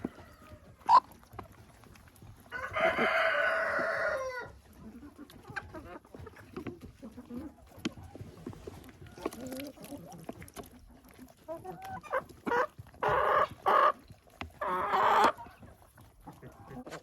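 Chickens clucking inside a winter coop while pecking at dried leftover bread, with bursts of loud squawking calls around the middle and near the end over a steady low murmur of the flock.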